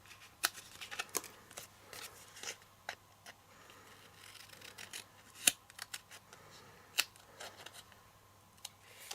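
Scissors trim cardstock for a small papercraft keepsake, giving a string of sharp, close snips spaced irregularly across a quiet room, with no talking.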